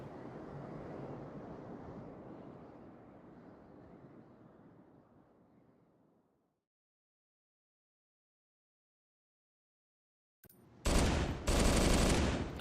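An assault rifle fires in Halo 2 in two short, loud, close bursts of rapid shots near the end, following a fading rushing roar and several seconds of silence.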